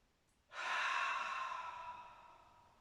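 A single long, steady breath drawn in during a qi gong exercise, close and clearly audible, swelling quickly and then tapering slowly over about two seconds in an otherwise quiet space.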